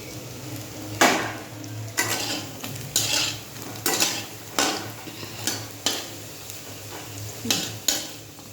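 Fish roe fritters fry in hot oil with a steady sizzle, broken by about eight sharp metallic scrapes and clanks of a spatula against the pan at irregular intervals. No one speaks.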